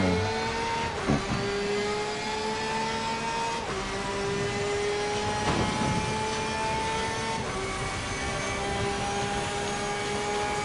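Ferrari and Mercedes race cars lap Bathurst in a console racing game. High-pitched engine whines climb and drop sharply at each gear change, loud and continuous, with brief overlapping passes.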